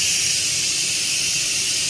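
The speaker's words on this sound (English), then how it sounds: "We let the steam out." Steam venting from a Thane Flavor Master 12-in-1 multi cooker after cooking, a loud, constant high-pitched hiss that holds steady throughout, close up and with no talking.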